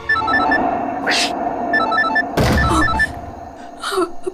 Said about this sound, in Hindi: आयशा को फोन करती हूँ।